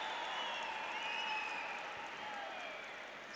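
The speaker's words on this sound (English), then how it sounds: "Huge cheer went up" An arena crowd at a wrestling match cheers and applauds in a sustained, fairly distant wash of noise that slowly fades, with a voice speaking over it.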